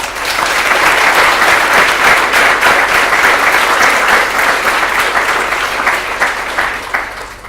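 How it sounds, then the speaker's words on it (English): An audience at a speaking event applauds steadily, dense rapid clapping that stays loud and close for several seconds before fading at the end, with no talking over it. "Let's give our speakers another round of applause."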